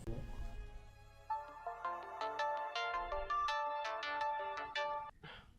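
A telephone ringtone plays a bright repeating electronic melody for several seconds before stopping abruptly as the call is answered, in a Nigerian film scene.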